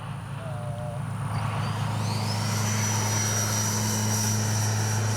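An RC model L-39 jet flies past over a runway, its rising turbine whine building from quiet to a loud, steady roar close by, while a person talks at times.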